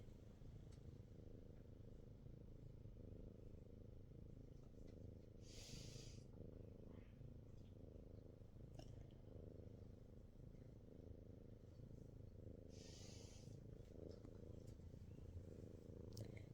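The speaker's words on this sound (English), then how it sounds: "Cat purring." A cat purrs steadily and softly up close for the whole stretch, a continuous low rumbling flutter with a couple of brief brighter breathy bursts in between.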